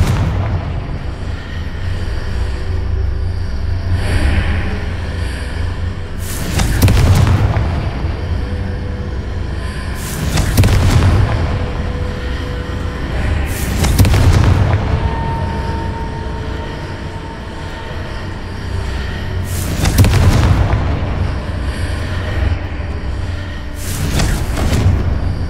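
Explosive Confringo spell blasts from the video game Hogwarts Legacy, five or six loud booming bursts spaced a few seconds apart over a steady low rumble of in-game ambience, with no talking.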